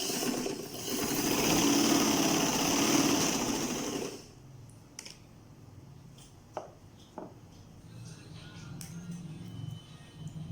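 Sewing machine running steadily at a loud, continuous whir for about four seconds, then stopping, followed by quiet room tone with a few faint clicks and taps.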